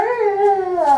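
A dog howls in one sustained, wavering cry lasting about a second, loud and close, with no talk over it.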